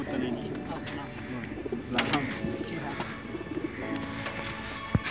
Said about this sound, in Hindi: ये देखें जी कबूतर रखे हुए हैं इन्होंने।